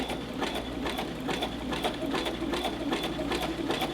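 Sewing machine stitching back and forth over a flat button, with a steady, fast mechanical whir and regular needle ticks, loud and close, with no voices.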